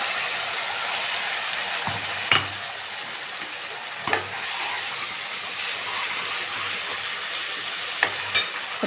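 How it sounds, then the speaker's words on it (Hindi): Ground masala hits hot oil with tempered cumin for tuar aamti, giving a steady loud sizzle and frying hiss with a few sharp clanks of a spoon stirring the pan. "अब ये जो हमारा पिसा हुआ मसाला है इसे हम इसमें डालते हैं।"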